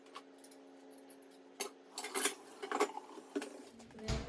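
Dishes and cutlery clatter at home as kitchen cleaning starts, with quiet metallic clinks and scattered knocks of plates and utensils coming in bursts, close by and fairly soft.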